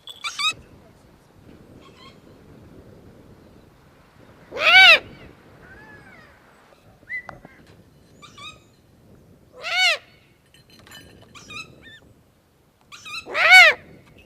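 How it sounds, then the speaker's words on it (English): A European eagle owl gives three or four loud, harsh, drawn-out calls spaced several seconds apart. Quiet rustling and faint background sounds fill the gaps. "She's a European eagle owl, and they originate from mainly Europe and Asia."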